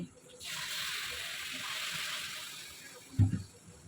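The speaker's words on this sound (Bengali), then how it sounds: "তো গরম জলটা আমি দিয়ে দিচ্ছি।" Hot water poured into a cooking pot of simmering curry makes a steady rushing splash for a few seconds and then tapers off, ending with a short clunk, close by and moderately loud.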